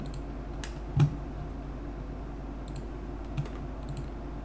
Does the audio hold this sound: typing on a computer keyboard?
yes